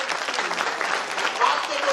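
An audience at a business speech event claps steadily, a dense continuous patter with a voice faintly audible beneath it.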